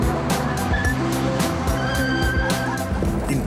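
A Mercedes C-Class spins out while drifting on a track, its engine roaring in rapid pulses beneath squealing, skidding tires, loud and close throughout.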